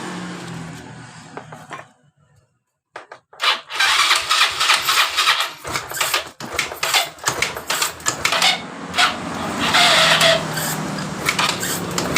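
A stalling Yamaha Mio Sporty scooter with a carburetor fault is cranked after a brief quiet pause, then sputters and roars in loud, uneven bursts close by, with no one speaking.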